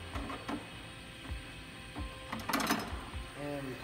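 Pad printing machine releasing its pressure, giving off quiet mechanical clunks, clicks and a short creaking whir, with someone talking between the sounds.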